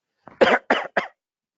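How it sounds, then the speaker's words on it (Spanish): Three quick coughs in a row, the first preceded by a short intake of breath, close and fairly loud, then silence. "tenemos un pequeño ataque de tos"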